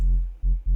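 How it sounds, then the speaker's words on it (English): A steady low pure sine wave tone from a Serum synthesizer hums on its own, briefly dipping twice before resuming, with no voices present. "if I were to just play the single sine wave"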